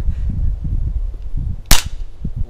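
A single sharp sniper rifle shot cracks out loud and close during outdoor shooting practice, standing out above low rumbling background noise with faint voices nearby.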